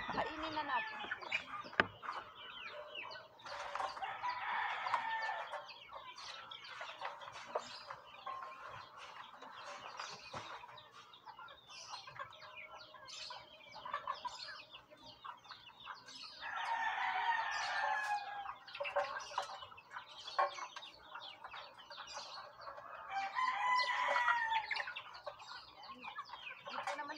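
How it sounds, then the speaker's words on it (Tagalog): Chickens and young chicks on a small farm cluck and peep at feeding time, fairly faint, with busier bursts of chirping rising and falling through the scene. "magpakain na tayo na yung mga sisiyo"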